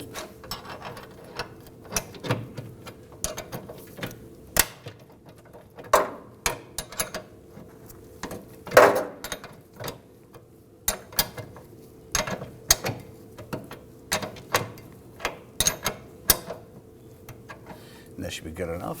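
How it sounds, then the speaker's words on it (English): Bolt being run down gently by hand on a rear lower rearward control arm cam of a 2008–2011 Ford Focus, with irregular metallic ratcheting clicks and taps spread through the clip over a low background hum. "We're just going to gently run this bolt down"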